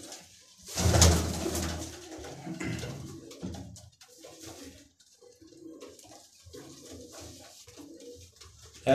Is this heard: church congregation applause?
no